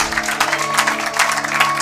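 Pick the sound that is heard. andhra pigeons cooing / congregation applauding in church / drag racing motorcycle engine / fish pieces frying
congregation applauding in church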